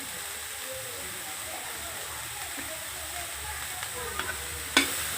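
Cauliflower frying in a pan for gobi paratha filling, a steady low sizzle throughout with a sharp clink of a utensil near the end.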